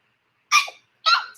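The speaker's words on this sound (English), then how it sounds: "Don't make fun of my sneeze" Two quick, sharp sneezes close up, the second following about half a second after the first, each a short burst alone in otherwise silent surroundings.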